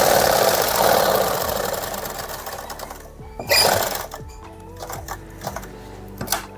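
A sewing machine running a long stitch on a suit, a steady mechanical whir that slows, then breaks into short uneven bursts and clicks, close and alone without speech.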